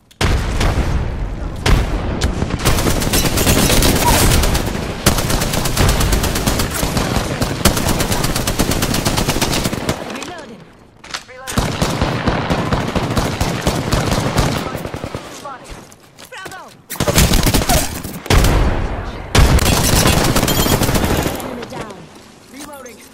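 Gunfire in the video game Apex Legends: loud, near, sustained automatic bursts and booming shots that pause in short gaps and then resume, dense and continuous over most of the stretch.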